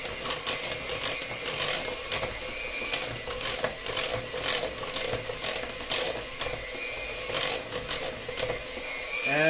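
Pizza dough made with milk and mashed potatoes is mixed, likely in an electric mixer, giving a continuous mechanical whirring with rhythmic clattering that runs steadily for several seconds.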